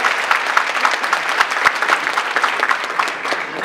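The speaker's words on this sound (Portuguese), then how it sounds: "Todo mundo aplaude" A room full of people clapping for a classical musician who has just scored a point in a guessing game, a dense, steady patter of many hands held close and loud the whole way through, with no pause in it.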